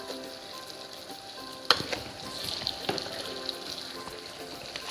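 Mughlai chicken masala sautés in a pan, a steady close sizzle and crackle with a few sharper stirring clinks, no talking.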